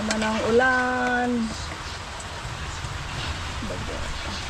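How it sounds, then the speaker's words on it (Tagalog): Steady rain hisses throughout, with a brief tonal voice-like sound near the start before the patter carries on alone. "Ayan na naman ang ulan."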